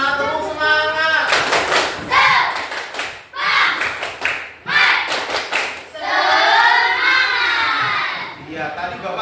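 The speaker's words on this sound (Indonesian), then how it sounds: "Coba tepuk semangatnya mana? Tepuk semangat." An Indonesian classroom of students in an Islamic religious education lesson performs a spirit clap routine, with rhythmic group claps and thumps mixed with loud chanted and shouted voices, close and energetic throughout.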